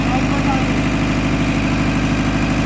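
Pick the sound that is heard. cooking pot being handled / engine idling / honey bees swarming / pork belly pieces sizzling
engine idling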